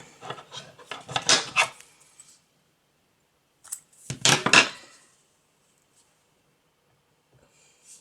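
Scissors snip through crochet yarn in two short bursts of close, dry rasping cuts separated by a quiet pause, with no talking.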